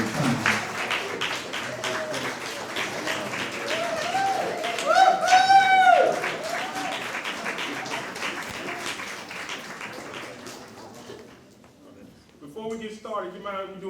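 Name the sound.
audience applause as the choir comes on stage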